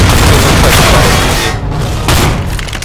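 Loud booming shotgun blasts from a Spaz-12-like pistol-style shotgun in Counter-Strike: Global Offensive arms race mode, heavy dense bursts filling the whole stretch with a brief dip midway.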